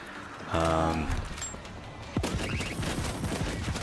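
Shotgun blasts and auto-turret fire mow down zombies in World War Z Aftermath, a dense run of rapid overlapping shots close up, preceded by a short tonal wail.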